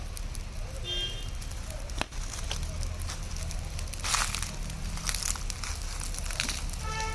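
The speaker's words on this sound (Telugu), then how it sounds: "ఇలా నాటుకోడిని బాగా కాల్చుకొని పులుసు కోసం చిన్న ముక్కలుగా కట్ చేసుకుంటున్నాం." A country chicken is singed over an open wood fire at a farmhouse cookout. The flames give a steady crackling, rustling roar with scattered sharp pops and snaps throughout.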